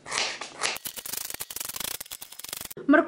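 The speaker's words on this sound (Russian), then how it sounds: "Сейчас мне нужно порезать морковь и немного ее обжарить." A knife dices a small carrot on a cutting board, a rapid run of crisp tapping chops following an initial scraping rub, close and fairly quiet.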